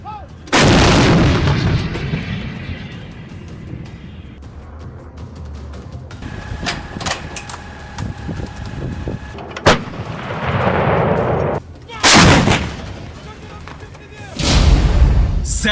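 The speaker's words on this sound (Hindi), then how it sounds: "ये फ्रांस की एक खतरनाक तोप है, जिसकी नई खेप यूक्रेन के जंग के मैदान में आ रही है" A French CAESAR howitzer fires several heavy artillery rounds, each a loud booming blast that rolls off into rumble, spaced a few seconds apart outdoors.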